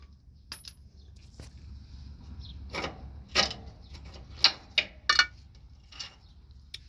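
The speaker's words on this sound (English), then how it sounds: "So all you gotta do now is just remove these two bolts." Bolts come out of a Freightliner Cascadia cab mount with a scattering of light metallic clinks and ticks, some sharper taps clustered near the end, quiet against a low steady hum, with no talking.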